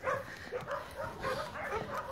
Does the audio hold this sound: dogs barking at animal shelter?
yes